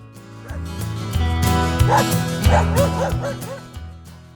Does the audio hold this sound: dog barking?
yes